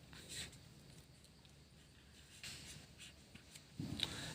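A pen scratches on paper in short, faint bursts of strokes with pauses between them, close and quiet, ending with a louder rustle.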